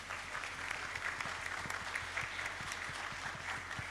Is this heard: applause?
yes